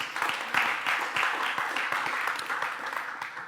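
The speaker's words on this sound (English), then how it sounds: "just a round of applause for this" A seated audience at a business presentation gives a short round of applause, with steady, moderately loud clapping from a modest crowd that slowly tapers off.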